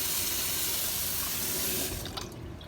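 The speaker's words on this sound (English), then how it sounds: "I fill the same 1 cup measure with water" A tap runs steadily into a 1-cup measuring cup, a bright continuous stream that cuts off near the end, followed by a few small drips and clinks.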